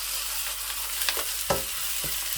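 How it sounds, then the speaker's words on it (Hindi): Garlic and ginger paste fries quietly with half-browned onions in a pan, a soft sizzle broken by a few spoon scrapes, close and faint with no talking. "उसमें लहसुन की पेस्ट और अदरक की पेस्ट आप ऐड कर दें और खूब पकाएं"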